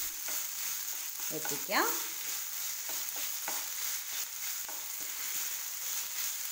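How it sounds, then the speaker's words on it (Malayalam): A spoon stirs tomato rice in a pan, a few scraping strokes and one louder scrape over a constant faint sizzle and hiss, with a brief spoken word. "നന്നായിട്ടൊന്ന് മിക്സ് ചെയ്ത് എല്ലായിടത്തേക്കും"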